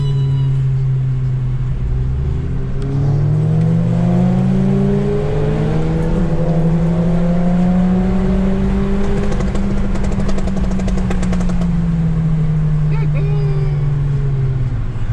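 A Volkswagen Golf V GTI engine revs up loudly and holds a rising drone as it accelerates nearby, with voices talking briefly over it.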